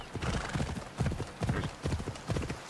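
Horse hooves clip-clop in a steady riding rhythm as a mount travels toward a waterfall in Assassin's Creed Odyssey, the clopping close and fairly loud with the occasional faint snort over it, and no talk heard.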